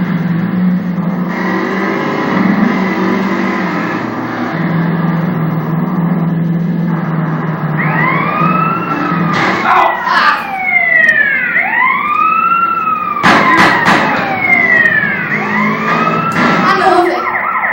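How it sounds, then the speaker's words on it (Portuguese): A police siren in GTA San Andreas wails in repeated rising and falling sweeps over a steady engine rumble, loud and close, growing busier toward the end. "desligando essa sirene maldita"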